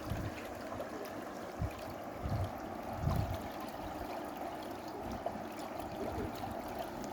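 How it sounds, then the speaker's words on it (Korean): Water flowing down from a reservoir above rice paddies in spring, a soft continuous stream trickle and gurgle at low level, with a few faint thumps, no talking. "물소리가 참 좋네요"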